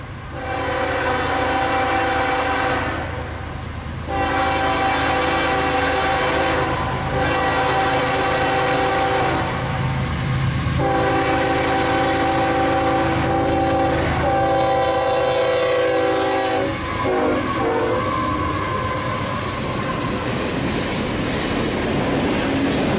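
A westbound freight train led by Norfolk Southern, Kansas City Southern and leased locomotives rumbles past at close range, with loud, sustained horn blasts sounding repeatedly over the heavy rolling of the cars.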